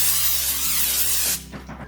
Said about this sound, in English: I'm going to just spray it real quick with this cooking spray